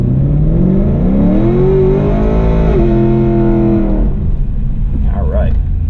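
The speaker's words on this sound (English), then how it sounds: "We'll do the burnout." A 2017 Chevy SS engine revs hard through a loud, sustained burnout, its pitch climbing and holding before dropping off, with voices audible at the edges of the roar.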